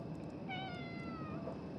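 A cat meows once in a game scene, a clear drawn-out mew with rising and falling tone laid over a steady low ambient drone, fairly close and alone without talk.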